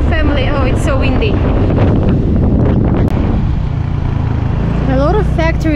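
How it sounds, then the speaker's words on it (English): Strong outdoor wind roars and buffets the microphone in Sri Lanka's tea-field hill country between Kandy and Nuwara Eliya. The blustery rumble stays loud and steady while people talk over it. "Oh, it's so windy."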